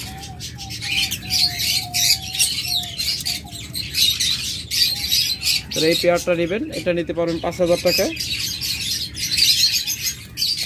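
Caged cockatiels and lovebirds at a bird sale chirp and squawk constantly in the background, nearby and busy, while someone talks over them for much of the time.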